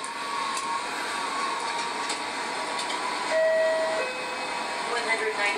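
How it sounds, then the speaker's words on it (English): Trains on a single-track line with a thin, faint whistle tone rising briefly over steady rumbling rail and carriage noise, heard from a distance in a continuous noisy setting. "And the whistling of the trains"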